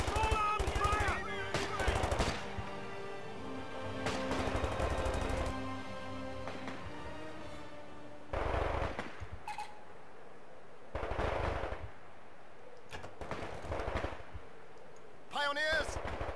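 Small arms gunfire from the video game Company of Heroes 2 crackles in repeated bursts of rifle and machine-gun fire separated by short pauses, with faint background voices at times.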